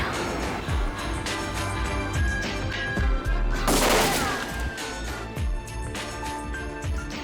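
A burst of gunfire, several shots cracking close together over loud dramatic music that plays throughout.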